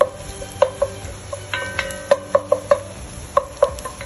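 Banana blossom and onions being stirred in a frying pan for a Jamaican dish, with repeated bright metallic scrapes and clinks of a utensil against the pan over a soft sizzle, at an uneven, busy rhythm.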